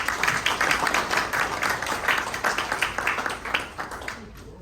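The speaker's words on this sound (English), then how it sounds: "Let's give a round of applause for Caleb Saunders" Crowd at an awards ceremony applauding for the crane operator of the year, steady clapping from many hands at moderate distance that tapers off toward the end.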